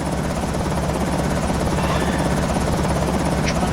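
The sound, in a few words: helicopter flying overhead, from video game Project Zomboid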